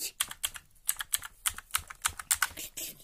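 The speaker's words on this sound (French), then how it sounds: "c'est un clavier qui est avec un cordon" Fingers type rapidly on a wired Battletron mechanical gaming keyboard, giving a close, crisp run of irregular clacking keystrokes with brief pauses and no voices.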